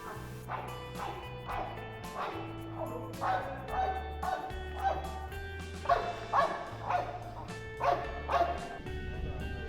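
Working dogs bark repeatedly outdoors during anti-terror training, with a rapid series of sharp, fairly close barks in bursts and a few whimpering yips between them.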